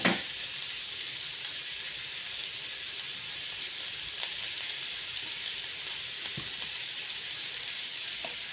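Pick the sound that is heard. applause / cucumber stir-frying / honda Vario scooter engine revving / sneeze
cucumber stir-frying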